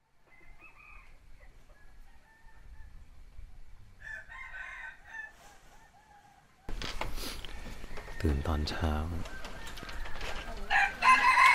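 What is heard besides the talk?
roosters crowing in the morning in a mountain village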